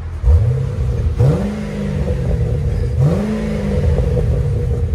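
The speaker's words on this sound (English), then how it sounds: "That's when you rev it up." Car engine fitted with a Borla muffler exhaust revving repeatedly, three sharp rising blips that settle into a steady deep idle rumble between them, loud and close, with no talking.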